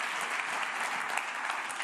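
Dense, sustained applause fills an ESA control room after a Soyuz rocket launch carrying the MetOp-C weather satellite, steady and close with many hands clapping at once.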